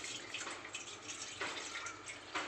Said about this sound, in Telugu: దాంట్లో కొన్ని వాటర్ పోసుకోవాలని